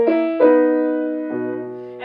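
Piano playing an ornamental Chopin passage with the right and left hands aligned in an 8-against-3 rhythm, slowed so the notes line up: three sustained chord-like attacks ringing and decaying, close and clear, with no voice.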